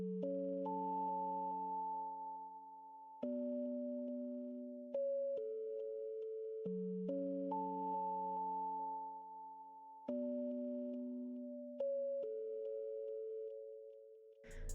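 Spacey, eerie synth key patch named Key OK with delay, playing a soft, slow ambient melody of sustained chord tones that shift every couple of seconds, each note trailing into echo, quiet and alone.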